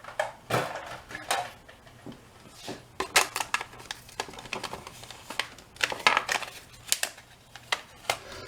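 A Big Shot die-cutting machine cranks a card through its rollers, giving a run of sharp mechanical clicks and ratchety clatter in irregular bursts, close and moderately loud, with no talking.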